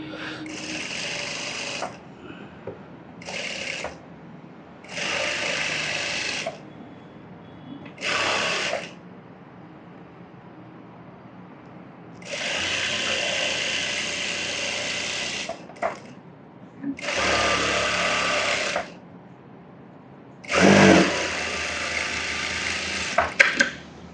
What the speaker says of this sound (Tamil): இப்போ என்ன பண்ணுறோன்னா சுற்றி தையல் போட போகிறோம்